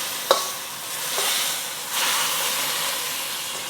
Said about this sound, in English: I'm gonna push the broccolini to the side